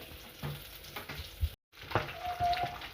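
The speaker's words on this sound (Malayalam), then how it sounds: "നമുക്ക് ബട്ടർ ബട്ടർ ഇട്ട് കൊടുക്കുകയാണ് കുറച്ച് സൺഫ്ലവർ ഓയിലും കൂടെ ഒഴിച്ചു കൊടുക്കുന്നുണ്ട്" Butter and sunflower oil sizzling in a pan for pasta, a soft steady crackle with light clinks and a brief gap of silence midway.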